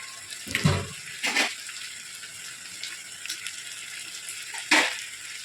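Beef stock poured into rice for a Palakkad beef leg biryani, heard as a steady liquid splash and trickle with a few louder sloshes near the start and end, close up and without talk.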